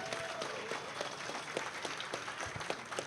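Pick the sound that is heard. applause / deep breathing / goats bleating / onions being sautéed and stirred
applause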